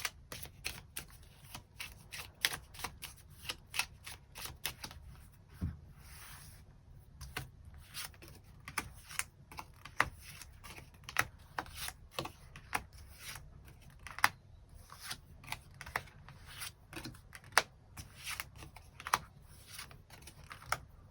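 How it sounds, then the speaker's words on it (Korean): Tarot cards shuffled and drawn by hand: a long run of crisp, irregular card snaps and riffles, close and fairly quiet, with no talking. "추가 카드로 일별로 월요일부터 일요일까지 어떤 하루를 보내게 될지 추가 카드 뽑아보도록 하겠습니다"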